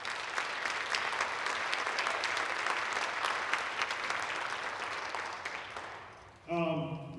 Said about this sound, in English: Again, another round of applause for our keynote.